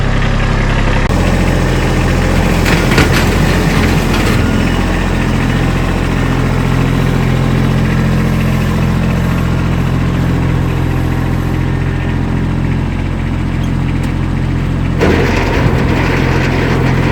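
Kubota B2301 compact tractor with a Kubota snowblower attached idles steadily nearby, a constant low diesel rumble with brief mechanical clatter near the start and end, no talking.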